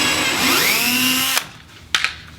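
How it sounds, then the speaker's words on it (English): A power drill bores a hole in a kayak hull to mount an anchor trolley, its motor whining up in pitch for over a second before stopping abruptly, followed by two brief clicks. "Now I'm going to drill the second hole."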